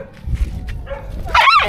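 A large dog gives a short yip and bark on a street outdoors, a brief close-up outburst near the end over low background rumble.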